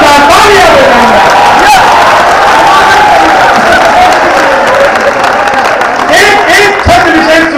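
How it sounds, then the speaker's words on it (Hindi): A dense, loud wash of audience clapping and crowd noise fills a Hindi comedy poetry gathering in Varanasi, sustained throughout with voices mixed in. "आप लोग 2000 तालियां बजाएंगे"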